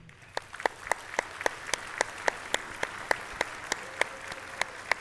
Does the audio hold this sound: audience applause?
yes